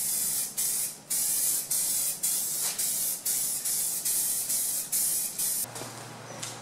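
A second coat is sprayed during a headliner install in a Chevrolet Suburban. About a dozen short, loud, close hissing spray bursts come in quick rhythm, followed by a quieter tail.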